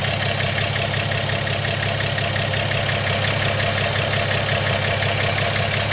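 A 1954 Chevy 3100 Factory Deluxe five-window cab truck with Hydra-Matic transmission idles, its engine a steady, even hum and rumble throughout, close and unbroken.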